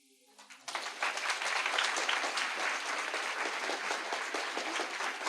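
An audience at a storytelling festival bursts into applause after a short murmur, a full, sustained clapping from many hands that stays loud and even to the end.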